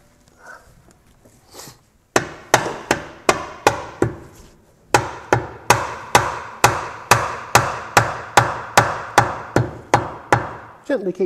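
Tapping on a Triumph TR6 rear brake hub: a steady series of sharp metallic knocks at an even rhythm, close and loud, after a few quiet faint handling sounds.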